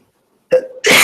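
A single loud, close sneeze: a short sharp intake followed by an explosive burst, heard alone in an otherwise quiet room during a programming homework session.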